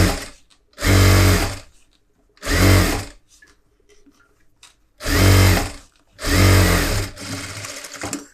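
A tailor's sewing machine stitches a collar neck blouse in four loud, close bursts of fast whirring separated by short pauses, ending in a softer, lighter run.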